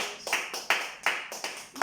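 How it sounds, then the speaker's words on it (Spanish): Church congregation clapping in a steady rhythm during a Spanish-language service, sharp claps repeating roughly every half second, moderately loud and with no voices over them. "Denle un aplauso al Señor."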